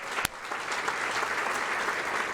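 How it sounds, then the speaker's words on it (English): An audience at a chamber of commerce annual dinner applauds steadily for the whole stretch, a dense, even wash of clapping with one sharp close clap near the start. "give them a round of applause"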